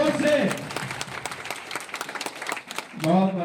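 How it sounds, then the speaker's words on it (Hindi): An audience claps together at a gathering. A short burst of applause sits between stretches of a voice, which is heard at the start and again at the end. "हम लोग ताली बजा रहे हैं"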